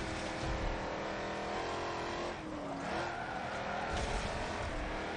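A hypercar in a racing video game qualifier sounds with a loud, continuous engine drone and shifting revs, with brief tire squeal and skidding as it corners.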